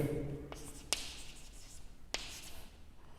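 Pen or chalk writing out an algebra solution by hand in a classroom: faint scratching strokes with a couple of sharp taps, quiet and close, with a voice speaking softly early on.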